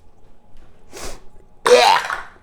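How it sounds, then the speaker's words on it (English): Olive oil cooking spray hisses from the can onto cupcake papers, a brief soft burst followed by a louder, steady spray lasting under a second, close by with no talking. "I'm using olive oil's cooking spray if you're gonna make this recipe."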